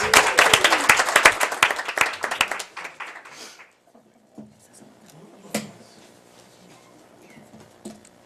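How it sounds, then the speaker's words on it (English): An audience at a school district board meeting applauds elementary students with dense, loud clapping for about three and a half seconds. The clapping then fades into a quiet room with a few scattered taps. "Can we please just give another round of applause for the elementary students?"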